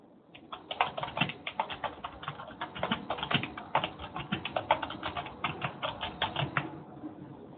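Steady typing on a computer keyboard, a fast run of close, crisp key clicks lasting several seconds with no voices.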